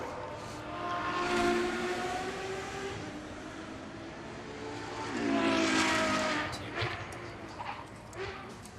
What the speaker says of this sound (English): Another of the glorious front-engined rear-wheel drive Ferraris